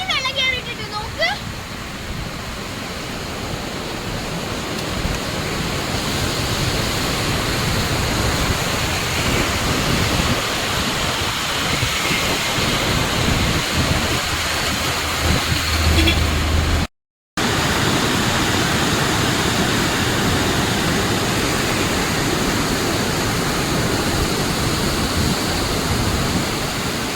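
Floodwater after heavy rain in Thrithala, Kerala, rushing in a steady broadband roar like a waterfall or surf, continuous and loud for the whole stretch, with a brief dropout midway.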